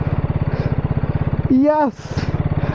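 A 2026 KTM Duke 250 riding in fifth gear, its engine a steady rapid pulsing thrum, close and loud, with a brief voice cutting in midway.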